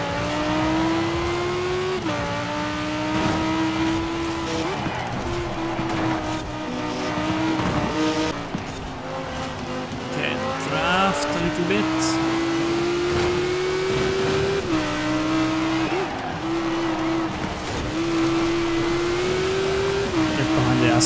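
An Audi quattro all-wheel-drive car races in Forza Horizon 4 with a strong, steady engine drone that rises and falls through gear shifts. Tire squeal and skids break in on the corners, and a player talks over it.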